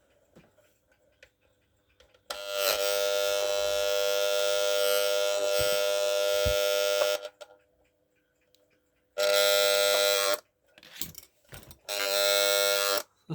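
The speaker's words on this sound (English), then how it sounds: "Now let's set the alarm to go on." APL electric alarm clock buzzing loudly and steadily for about five seconds, then falling silent before two shorter bursts of the same harsh, close buzz, with faint ticking in the quiet gaps.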